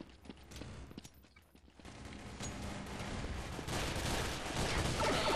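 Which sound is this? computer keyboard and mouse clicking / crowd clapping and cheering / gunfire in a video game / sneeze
gunfire in a video game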